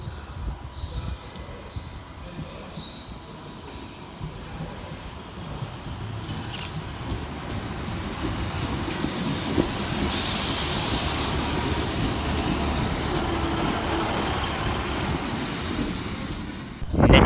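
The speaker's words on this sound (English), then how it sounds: "Arriving next into the station is 150-213 with the 1534 Transport for Wales service from Cardiff Central" A Transport for Wales class 150 diesel unit arrives at Cardiff Queen Street, a steady rumble building over several seconds into a loud hiss and rail noise, with no talk.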